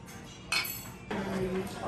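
Mason jar water glasses clink together in a toast at a breakfast restaurant, a bright clink near the middle with table chatter and voices carrying on around it.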